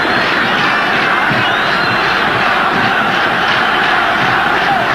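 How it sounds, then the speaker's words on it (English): A football stadium crowd roars continuously and loudly at a 1994 Zambia versus Nigeria match, a dense, unbroken wall of voices without any clear talk above it. "Crowd roar them on."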